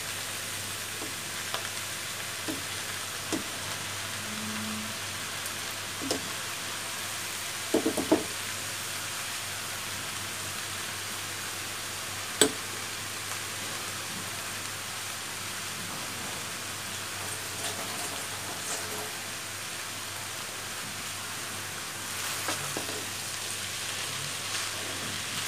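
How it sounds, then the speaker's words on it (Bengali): Leftover rice frying in a pan with a steady, rain-like sizzle throughout and sparse scraping stirs and light taps of the utensil, quiet and close. "ভাতগুলো দিয়ে ভালো করে নাড়তে হবে"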